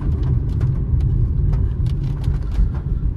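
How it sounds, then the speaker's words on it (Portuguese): Steady low engine hum of a 2023 Fiat Mobi Like 1.0 running quietly, heard from inside the car with a continuous rumble and faint road noise, no talk. "Suspensão quietinha, motor também, motor é quietinho."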